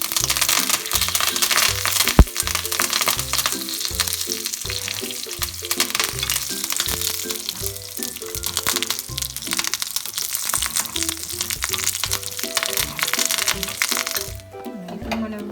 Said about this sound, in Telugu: ఆవాలు చిట్టుపట్లాడుతున్నాయి. ఇప్పుడు కరివేపాకు వేసుకోవాలి.